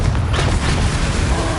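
A Confringo blasting spell explodes in the Hogwarts Legacy video game, giving a loud, deep, booming blast with a rumbling low tail that fills the whole short moment.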